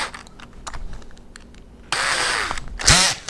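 A power drill bores a hole into a wall of a DIY camper build, two short loud bursts of whirring after a stretch of quiet clicking and handling noises.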